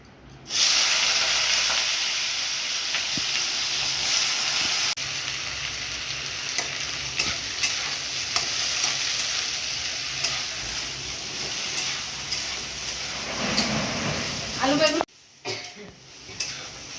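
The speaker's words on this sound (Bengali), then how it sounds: "আলু বেগুনটা ভাজা ভাজা করে নিয়েছি হালকা।" Potato and eggplant fry in a pan with dried red chillies, giving a steady, close sizzle and crackle under occasional stirring scrapes, ending with a brief clatter.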